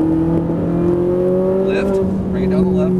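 A Ferrari 458 Italia's engine pulls hard under full throttle on a race track, a loud steady rising tone heard close throughout, with a voice speaking over it.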